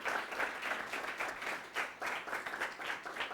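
A church congregation at a Sunday service claps together, producing moderately quiet applause that swells in regular pulsing bursts, heard alone with no talk.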